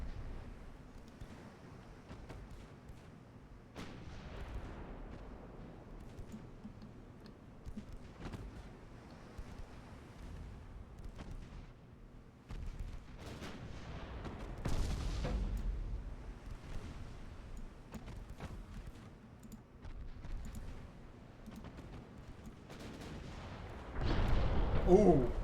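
Warship guns booming in the naval video game Ultimate Admiral: Dreadnoughts, Russia 1890, heavy multi-barrel salvos thudding at intervals under game wind noise, with louder blasts near the middle and end while a voice talks over it.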